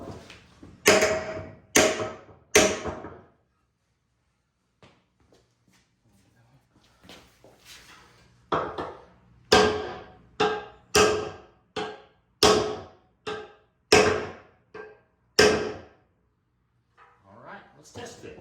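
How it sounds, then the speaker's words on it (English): A hammer strikes the metal brackets of a rear bumper on a Jeep Wrangler YJ, sharp ringing blows in irregular bursts with short pauses between them. "We're going to just take our hammer and we're going to adjust those down so it'll fit better."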